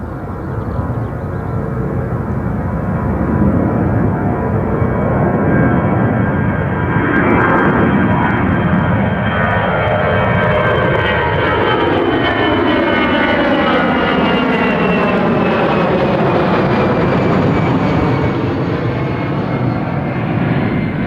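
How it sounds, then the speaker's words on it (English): An EasyJet Airbus A320 jet airliner takes off at Gatwick with a loud, sustained engine roar. Its pitch sweeps slowly as the plane passes and climbs away. "Another EasyJet 320 about to rotate."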